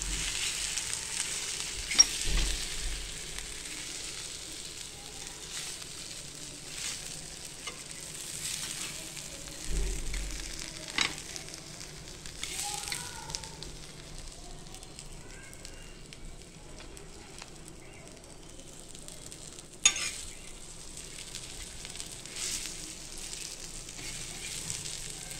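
Bangda mackerel coated in rava shallow-frying in a pan, a steady soft sizzle and crackle running throughout with a few louder pops and stirring clicks, close up and with no talking.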